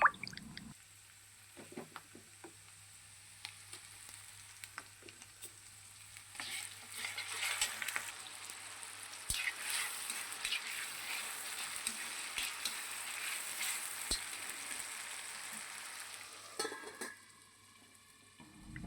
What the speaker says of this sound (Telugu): ఇప్పుడు అల్లం వెల్లుల్లి పేస్ట్ వేస్తున్నాను